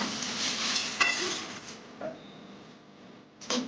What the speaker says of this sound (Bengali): আলুটা কিছুক্ষণ ধরে ভেজে নেব।